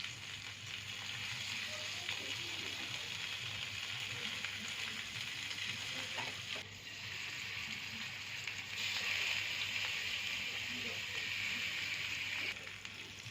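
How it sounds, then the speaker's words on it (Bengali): Spice paste for rohu fish korma sizzles and crackles steadily in a pan after a splash of water, a continuous close frying hiss that brightens and intensifies midway. "আবারও আমি ভালো করে মশলাটা কষাবো"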